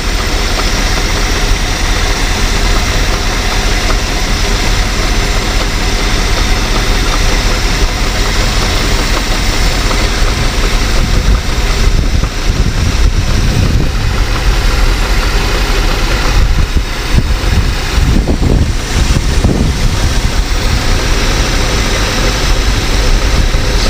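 A Continental Mark III V8 idles roughly after fuel was poured in, with a slight misfire, producing a loud, constant rumble with uneven low thumps, close by and without talk across the whole stretch.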